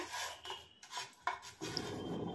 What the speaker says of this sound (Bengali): কেক টিনের মধ্যে আমি একটু ঘি ব্রাশ করে দিয়ে দিচ্ছি।